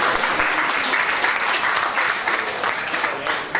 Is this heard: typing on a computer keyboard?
no